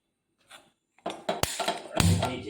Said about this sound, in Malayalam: ഇനി നമുക്ക് ചീനച്ചട്ടി എടുത്ത് വെക്കാവേ.